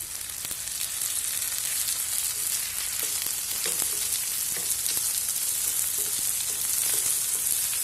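Carrots, capsicum and corn fry in a pan, giving a steady close sizzle with faint stirring scrapes throughout, alone with no voices.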